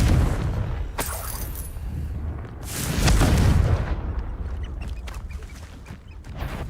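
Confringo blasting spell in Hogwarts Legacy: a sharp crack near one second, then a louder swelling explosion around three seconds with a shattering, crackling tail amid ongoing game ambience.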